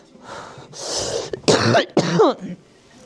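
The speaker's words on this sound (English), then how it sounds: "I'm gonna cough" A person clears their throat and coughs a few times, close and fairly loud, with no talking.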